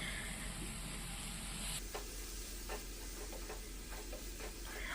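Tomato thokku being stirred in a pan after coriander leaves are added, a soft sizzling hiss with intermittent scraping strokes of a spoon, close and steady with no voices.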